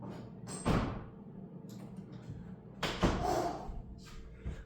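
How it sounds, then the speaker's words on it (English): A household room door is shut indoors, heard as two dull thumps a couple of seconds apart with faint rattling and shuffling between them, fairly close, with no talking. "I'm going to close the door really quick."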